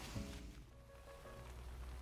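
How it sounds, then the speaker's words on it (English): Rain patters softly and continuously in an Animal Crossing New Horizons game scene, a faint, even wash with light tonal game sounds, and no voices. "Well, it's raining, so that's not a good sign."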